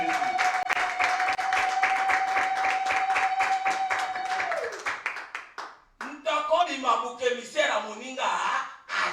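A church congregation claps and cheers for Jesus during a sermon. Steady rhythmic clapping comes first under a sustained organ or keyboard tone. It then gives way to loud shouting and cheering voices.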